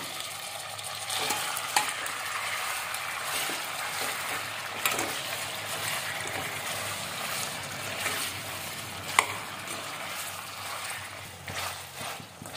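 Chicken pieces fry in oil for a chicken fry and are stirred, giving a steady sizzle broken by scraping and occasional sharp utensil clinks against the pan, with one distinct clink partway through.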